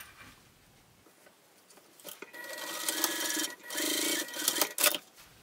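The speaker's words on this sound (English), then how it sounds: "I'm just going to top stitch along this edge" A sewing machine top-stitching along a fabric edge, an eighth of an inch from the seam on a bag's bottom gusset, runs in a steady mechanical whir after a quiet start, with a brief pause midway.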